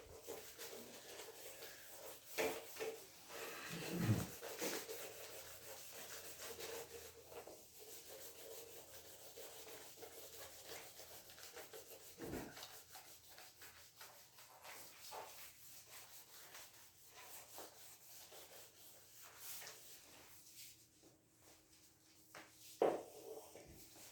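Writing is rubbed off a board during a physics lesson, giving a long, steady scrubbing and rubbing sound with occasional louder bumps. It is fairly close and there are no voices.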